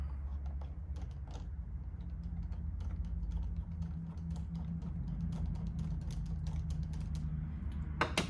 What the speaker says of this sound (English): we're going to loosen this screw here